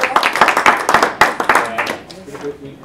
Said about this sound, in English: You gotta stop the applause for me.